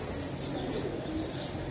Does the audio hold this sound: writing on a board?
no